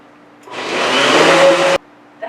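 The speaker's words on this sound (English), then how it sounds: "Adding a little bit of water to this to make it a little bit easier to blend everything up in the blender." A blender whirs through butternut squash soup loosened with a little water, a loud steady motor roar of about a second and a quarter that cuts off abruptly, with a brief restart at the end.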